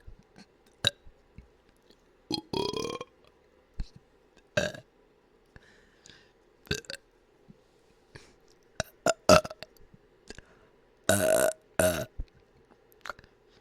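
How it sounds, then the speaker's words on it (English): Burps repeated again and again, close and fairly loud, in irregular bursts spread across the clip with short quiet gaps between them. "I'll burp on you over and over and over again."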